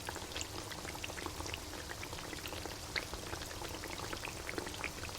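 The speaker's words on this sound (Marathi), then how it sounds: "सर्व समोसे एकसारखे सर्व बाजूनी तळून घ्यायचे" Samosas deep-frying in hot oil at medium heat, a continuous dense crackling bubble with fine popping, steady and close throughout, no voices.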